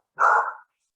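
A dog gives a single sharp, loud bark, close by and isolated against silence.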